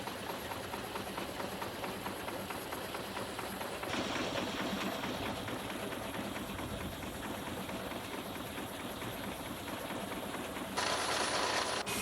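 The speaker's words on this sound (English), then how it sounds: "You use that for the steam engine." An old steam engine runs at a sawmill, pumping its own water, giving a steady, close mechanical chugging and rattling throughout that grows louder in bursts.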